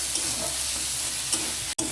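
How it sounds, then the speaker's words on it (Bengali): Vegetables with chili powder being stirred in a frying pan for a Bengali fish-head dish, a steady close sizzle and hiss with soft stirring scrapes and a momentary break near the end. "আর দেবো বেশ খানিকটা লঙ্কার গুঁড়ো দিয়ে মশলাটাকে ভালো করে সবজিগুলোর সাথে মিশিয়ে নেব।"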